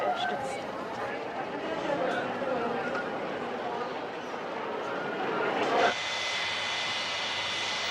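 Steady cabin drone of an Aero Peru airliner in flight, a broad continuous roar heard from inside near a window seat, with faint voices mixed in and a slight shift in tone near the end.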